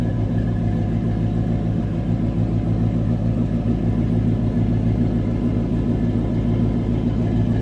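A 1964 Pontiac GTO Convertible engine idles, heard from the rear, a deep, steady rumble with no speech, a low throaty drone holding even loudness throughout.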